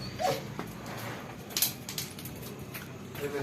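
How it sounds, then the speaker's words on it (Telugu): A dog outside the house whimpers and yips faintly in short, high whines, set against quiet room noise with a few soft knocks. "బయట కుక్క వచ్చిందంట"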